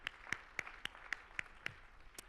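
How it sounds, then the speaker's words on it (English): A handful of sparse, evenly spaced claps ring out faintly in a meeting hall, applause for a school board vice president at an educational leadership summit, with no real crowd swell. "Let's give him a round of applause in its absence."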